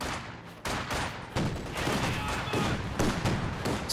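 A flak Panzer in the Company of Heroes 2 strategy game fires on infantry behind heavy cover, rapid loud bursts of autocannon flak that repeat in quick volleys, dense and sustained with no talking.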